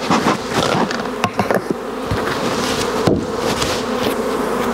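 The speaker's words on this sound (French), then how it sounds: "Bon, il y a les abeilles dedans." Honeybees buzzing inside an opened beehive, a dense, close, continuous drone of many wings with a few knocks and taps of hive frames mixed in, loud and without speech.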